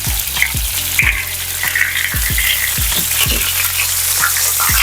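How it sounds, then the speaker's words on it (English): Pieces of coconut chicken fry in a pan with a steady, close sizzle and sharp bursts of popping grease throughout, with no talking. "It is sizzling up really good now. I mean, grease is popping up everywhere"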